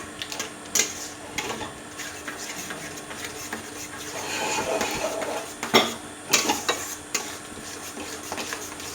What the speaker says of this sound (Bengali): গ্যাস হালকা, সুজিটা হালকা হাতে এভাবে নাড়িয়ে নিতে হবে।